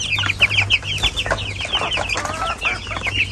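A hen, a dakan from last year's stock, clucks among her four chicks, with rapid high peeping and chirps layered over her low, close clucks and a faint background hum.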